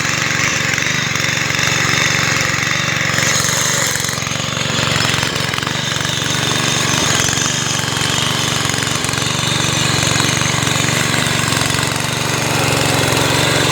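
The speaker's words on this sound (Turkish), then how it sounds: "Yavuz Yet 300 benzinli çapa motoru" Petrol Yavuz 300 tiller with a Honda engine and a 3-forward, 1-reverse gearbox runs steadily up close, a loud continuous engine drone with a rough, rattling texture throughout.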